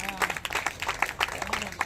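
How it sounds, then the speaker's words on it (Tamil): Brief burst of audience clapping honoring a woman achiever's award at a classical dance school's spring festival, mixed with a speaking voice throughout. "பலமா கைத்தட்டுறீங்களா?"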